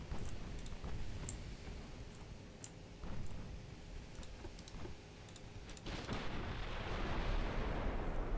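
Naval gunfire in the Ultimate Admiral game, a 1920 German battleship campaign: a string of sharp, distant booms and crackling impacts over a low, steady rumble, with a heavier rushing burst of noise building toward the end.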